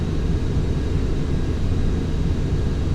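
A simulated airliner's engines drone in a steady, loud, continuous roar during the climb after takeoff in Microsoft Flight Simulator X, with no voices over it.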